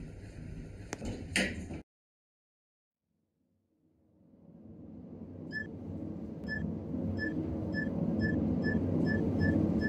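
Elevator doors at Platinum Headquarters in the Roblox game slide shut, a low rumbling swell that builds steadily after a brief silence. Short repeated electronic chimes or beeps ring out over it. No one speaks.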